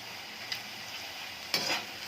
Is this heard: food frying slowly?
yes